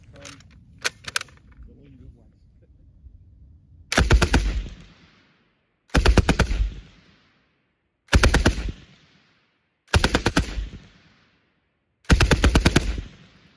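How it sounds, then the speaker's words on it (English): Vickers machine gun firing Mark 7 ammunition in five loud, close bursts of rapid automatic fire, each about a second long and separated by short silences, after a few faint clicks and handling noises. "Some Mark 7 ammunition was also fed through the Vickers with noticeably more smoke."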